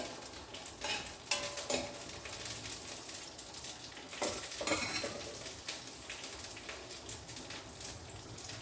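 Green chilies frying in oil, a continuous crackling sizzle with scattered utensil scrapes and stirring taps, fairly faint and steady throughout, no voices.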